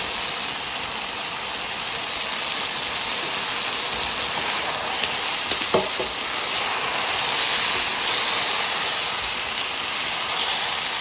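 Ginger garlic paste frying in oil in a pot over medium heat, a steady loud hiss and sizzle running throughout with a few faint clinks of stirring.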